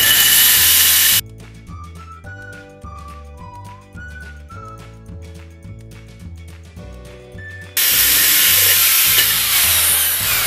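A power drill grinds into a planter pot in two loud, sustained stretches, one at the start and one at the end. Between them is a quieter gap carrying a melodic music track.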